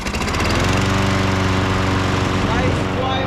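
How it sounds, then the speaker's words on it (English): A Toro Recycler 22-inch push lawn mower runs steadily at close range, its loud, even engine drone and rapid blade chatter continuous throughout with no pauses. "Nice, quiet push mower."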